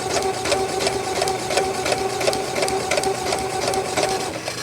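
A sewing machine stitches a quilt block in a steady, fast, close mechanical rhythm that runs throughout without pause.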